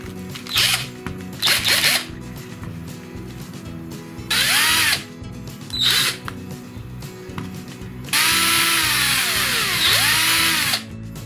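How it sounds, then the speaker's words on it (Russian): An electric screwdriver drives small screws in a series of short whirring bursts, each rising and falling in pitch, with pauses between runs and one longer final burst. The sound is close and loud, with no talking. "Мне надоело крутить вручную, я решил поменять маленькую отвертку на механическую."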